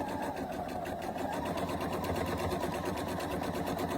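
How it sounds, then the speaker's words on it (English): A sewing machine stitches a quarter-inch seam on a quilt block, its motor whirring steadily with a rapid, even needle rhythm throughout, close and continuous with no talking. "And you're just gonna go all the way down that seam, 1/4 inch seam."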